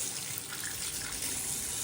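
Strong water pours from a tap in a Cairo apartment, a dense, steady close-up hiss and splash that runs evenly for the whole moment with no voices.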